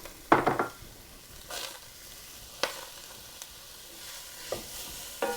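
Vegetables for beef barley soup sauté in a hot pot, a soft sizzle broken by several sharp scrapes and clinks of a utensil stirring against the pot, quiet and close with no voices.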